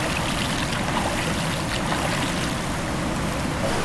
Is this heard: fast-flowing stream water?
yes